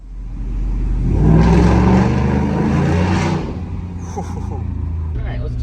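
A Ford F-150 with the 5.0 V8 and a Borla ATAK exhaust revs loudly and close, rising to a deep sustained roar echoing off a nearby wall, then dropping back to idle while someone talks.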